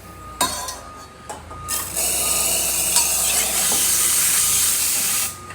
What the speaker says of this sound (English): Nice strong steam.